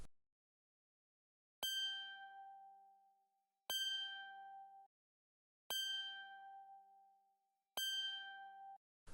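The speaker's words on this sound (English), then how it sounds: "Added a bell." Four evenly spaced bell strikes in an FL Studio beat, each a bright metallic ding that rings and fades, repeating in a slow steady pattern with silence between.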